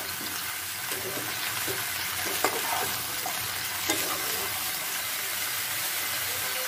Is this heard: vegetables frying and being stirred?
yes